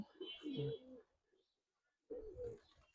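A pair of Gribaj pigeons, male and female of matching size, give two low cooing bursts separated by a short silence, close by and mixed with nearby talk.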